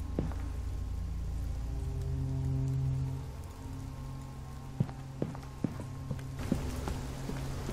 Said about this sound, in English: Okay, I guess I have to go out here in the rain.